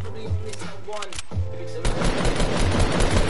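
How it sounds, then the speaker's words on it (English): Rapid gunfire bursts in an online shooter match, loud and close, with talk over parts of it and a denser volley toward the end. "I hear shots"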